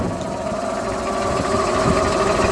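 A 1977 Superior/Ford B-700 bus engine runs steadily at idle, burning some oil, a constant close mechanical drone and clatter with no break.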